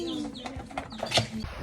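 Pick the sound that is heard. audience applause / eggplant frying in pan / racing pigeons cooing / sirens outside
racing pigeons cooing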